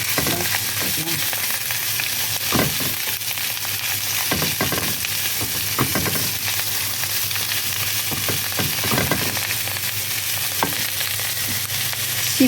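Onions fry in a pan with a continuous loud sizzle, broken by repeated scraping strokes of a spoon stirring them. The sound is close and no one talks over it.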